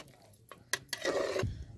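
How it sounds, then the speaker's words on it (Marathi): Rice is stirred into boiling chicken broth in a pot: a couple of sharp clinks, then a brief burst of swishing, bubbling stir noise, close and fairly quiet. "सगळं हलवून"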